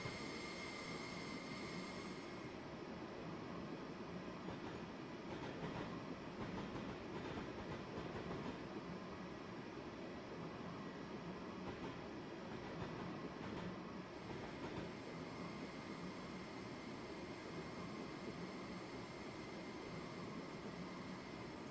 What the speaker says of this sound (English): I keep hearing things that sound like train noises